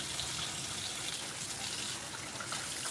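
Greens rinsed under a running kitchen tap, a steady soft rush of water pouring and splashing for a few seconds, fairly faint with no talking.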